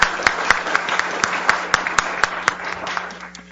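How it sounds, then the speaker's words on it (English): Forum audience applauds at a policy event: a steady wash of many hands clapping with some sharper nearby claps standing out, fading slightly toward the end, with a faint hum underneath. "let's give an initial round of applause"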